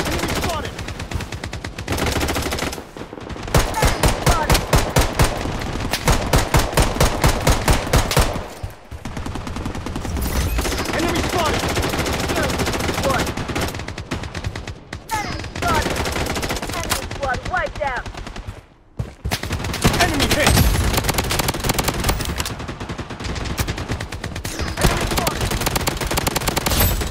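Near-constant gunfire in the BloodStrike shooter game, with rapid automatic bursts and sharp shots chaining together over about half a minute, broken by only brief pauses.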